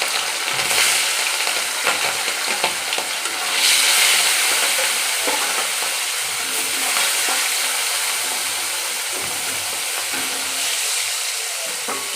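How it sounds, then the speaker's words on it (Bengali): Hot oil sizzles with a steady, bright hiss and scattered crackles as hilsa fish fries, interrupted now and then by faint stirring. "মাছটা এবার হালকা করে ভেজে নেব"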